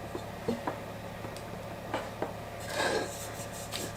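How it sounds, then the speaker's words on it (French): Butter is spread around the sides and middle of a cake pan, producing soft, close rubbing and scraping strokes with a few light metallic taps over a low background hum. "je vais venir beurrer les côtés et puis le milieu aussi"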